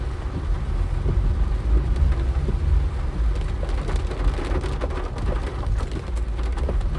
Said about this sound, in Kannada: ಮಳೆ ತುಂಬ ಜಾಸ್ತಿ ಆಗ್ಬಿಟ್ಟಿದೆ.